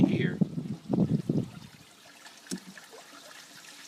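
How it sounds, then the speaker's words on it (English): Water running into an aquaponics tank, a light trickling under a voice at the start, then a quieter steady flow with a few small splashes. "As you can hear the water running in"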